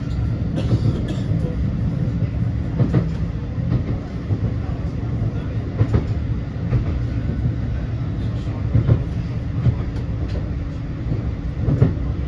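A Blackpool tram rolls along towards Fleetwood Ferry, a steady low rumble of wheels on rail with periodic clicks and thumps from track joints, close and continuous throughout.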